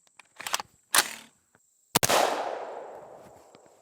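Gunshots from a 300 Blackout rifle firing 120 grain full metal jacket rounds into 3D-printed plates: several sharp cracks, the last a loud blast with a long decaying rumble, heard alone.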